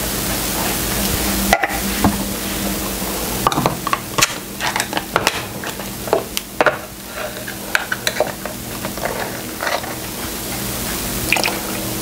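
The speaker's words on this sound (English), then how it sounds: "I'm going to mix the cocoa, the sugar, and the canned milk together." Cocoa, sugar and evaporated milk being stirred together for a chocolate cake, with a spoon scraping and squishing through the wet mixture in irregular strokes and a faint background hum.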